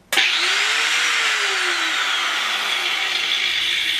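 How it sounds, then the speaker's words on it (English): A corded angle grinder switched on abruptly and running at a steady high-pitched whine close by, its motor pitch sweeping briefly as it spins up, with no talk. "I have my angle grinder plugged in and I'm gonna turn it on with these wires."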